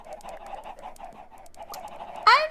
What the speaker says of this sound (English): What am I gonna do with all these chickens?